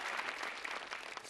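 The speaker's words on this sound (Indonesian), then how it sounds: "Saya merindukan tepuk tangan yang seperti ini." A live stand-up comedy audience in Indonesia breaks into dense, continuous clapping, even and sustained throughout, heard alone without talk.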